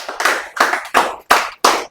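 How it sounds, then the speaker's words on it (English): Claps ring out in a room during a sales-English training session, falling as five separate loud bursts in a slow, even rhythm, each decaying quickly into near silence. "So now everybody please claps loudly for your own selves."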